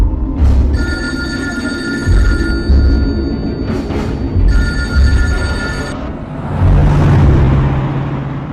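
A telephone rings loudly and close in two long trilling bursts with a pause between, over a dull rumbling background in a horror action thriller scene, with no talking.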